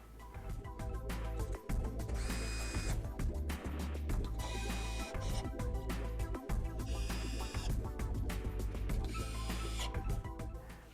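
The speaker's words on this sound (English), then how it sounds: "remove the fan inlet guard by removing the 4 bolts that hold that on" A power tool removes the four bolts holding a fan inlet guard on a heater, with bursts of whirring and rattling, clanks and clicks between them, close and steady over about eleven seconds.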